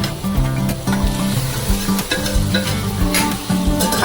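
Prawns sizzle and crackle in a hot pan, with steady frying hiss and intermittent scraping and stirring, close and fairly loud, with no voices.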